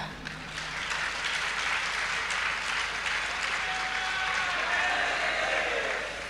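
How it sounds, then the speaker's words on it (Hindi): An audience at a religious discourse after the Chaturmas entry in Rishabh Vihar, Delhi, claps in sustained, even applause from start to finish, with a faint crowd murmur underneath. "ताली क्यों बजा रहे लोग?"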